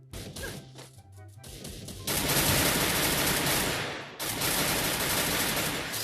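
Scar assault rifle fire in the Free Fire video game: loud sustained bursts of automatic gunfire with cracking impacts, building into dense continuous shooting over several seconds.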